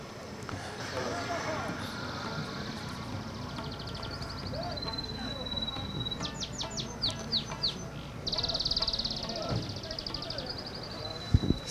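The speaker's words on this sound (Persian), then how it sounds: "صدای پرنده در گوشت میه" Small birds chirp and trill outdoors in the border town of Ishkashim, Badakhshan, Afghanistan: bright, repeated calls and rapid tweet sequences over a steady background rumble and faint distant activity.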